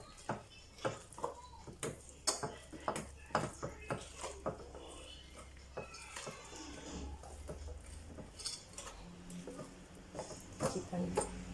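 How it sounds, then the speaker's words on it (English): Naan dough mixed in a bowl, a steady run of soft taps and knocks from the utensil against the bowl, fairly faint and close, with a voice talking in between. "Keep on mixing this."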